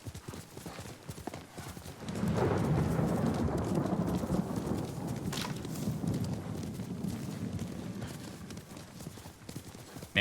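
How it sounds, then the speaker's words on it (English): Thunder rumbles low and broad through a rainstorm in the Ghost of Tsushima video game, swelling in after a couple of seconds over steady rain and galloping horse hooves, then slowly easing back. "Kind of nice to hear it in the game."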